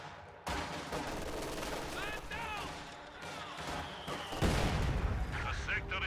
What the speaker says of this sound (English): Heavy mortar pounding away at these grenadiers